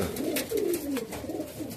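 A male Kamagar pigeon coos close by in a low, rolling murmur, with two or three soft swelling phrases running through a brief stretch, no talk over it.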